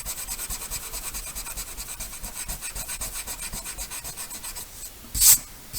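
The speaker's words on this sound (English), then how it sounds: "I will now rub out these lines here just to avoid any confusion." Rhythmic rubbing of an eraser over pencil lines on timber, quick even back-and-forth strokes close by, ending with a brief louder scuff.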